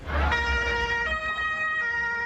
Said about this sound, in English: Ambulances rushing to the scene